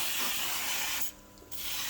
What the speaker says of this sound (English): this is a canola spray oil. So just spraying the